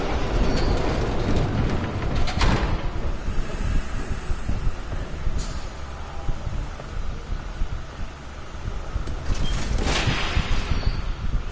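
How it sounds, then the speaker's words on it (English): A train approaches in a dramatized scene, a continuous heavy rumble with roaring, wind-like noise that swells and fades, loud and steady throughout with no talking. "There's a train coming."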